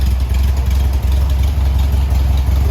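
A 1971 VW Beetle's air-cooled engine runs at a steady idle, a loud, continuous low rumble with an even throb and no voices.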